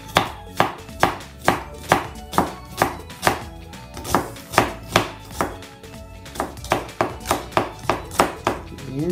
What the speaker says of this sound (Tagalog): Hiwain ko na siya ng maliliit.